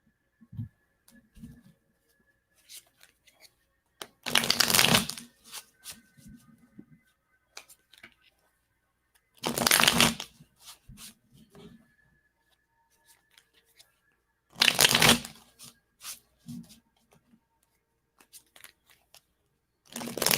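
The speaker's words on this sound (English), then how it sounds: "Keep shuffling." Tarot cards being shuffled during a live reading, heard as three loud, dense bursts of riffling roughly five seconds apart, with faint handling clicks between them and no talking.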